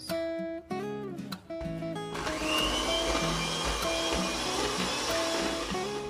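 Electric mixer whirring steadily as it beats cake batter for a pineapple upside-down cake, a loud close motor drone with a few brief stops and restarts early on, then running continuously.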